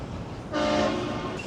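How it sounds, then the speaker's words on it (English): A train passes at night in downtown Houston near the TC Energy Center, a steady rolling rumble that swells midway, with a faint horn-like tone over distant city ambience. "There's a train coming right there."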